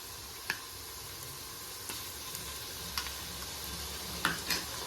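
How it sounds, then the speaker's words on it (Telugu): Ginger-garlic paste fries in hot oil for egg biryani, giving a steady, soft sizzle with a few sharp ticks and spatula clicks scattered through it, close up and with no talking. "ఇది కొద్దిసేపు ఫ్రై కానీ అందులోనే అల్లము, తెల్లవాయి పేస్ట్ 2 స్పూన్లు వేస్తున్నా."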